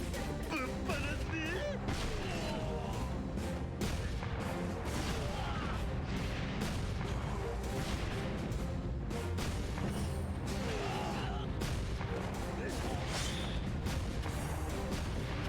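Cannon fire in a samurai-era Kyoto video game, a long stretch of repeated sharp blasts and crashing impacts over a dense, noisy battle din, with talk heard in places.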